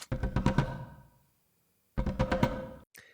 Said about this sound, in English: These two are me wrapping my knuckles on the piano bench.